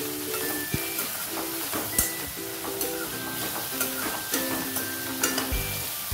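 Vegetables sautéing for fried rice in a pan over a high gas flame sizzle steadily, while a spatula knocks against the pan in regular, close, fairly loud clinks.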